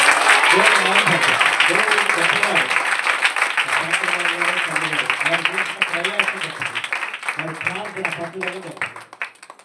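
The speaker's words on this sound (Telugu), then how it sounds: "అది దేవుడికి ఒకసారి గట్టిగా చప్పట్లు కొడుతుంది" A church congregation claps loudly for God in a dense, continuous round of applause that slowly fades toward the end, with a voice speaking over it.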